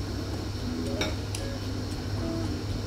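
A spoon clinks softly against a pan while cardamom seeds are stirred into milk for vermicelli pudding, a few light metallic taps over a steady low kitchen hum.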